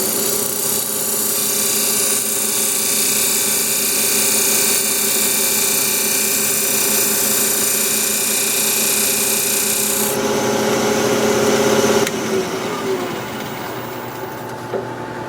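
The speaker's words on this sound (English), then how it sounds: "Now I'm just going to use my parting tool to come in here and create a square shoulder" A parting tool cuts a square shoulder into a spinning wooden box on a lathe, a loud sustained scraping whir with a steady motor hum that shifts tone as the cut changes, then eases off.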